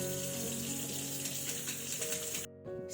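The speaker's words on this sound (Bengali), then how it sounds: "আমি ধুয়ে দিই মুখটা, ধুয়ে দেবো মুখটা।" A tap runs into a basin sink while a child's face is washed, a steady close splash of water with faint tonal hum beneath that briefly drops out near the end before resuming.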